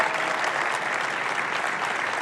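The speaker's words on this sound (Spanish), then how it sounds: "Un aplauso" Audience applause for a female presidential pre-candidate at a political event in La Rural, a steady dense wash of clapping hands from a large crowd, sustained and even throughout.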